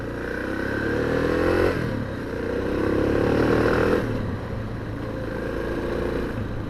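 A Suzuki DR650 dual-sport motorcycle pulls away nearby, its engine rising and falling in loudness with a throaty low rumble and some clatter as it rides off, with no talk.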